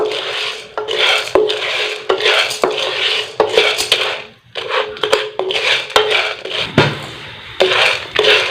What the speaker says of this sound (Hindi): 1 कप हमने इसमें पॉपकॉर्न के बीज डाल दिए और इसको अच्छी तरह मिक्स कर लेंगे।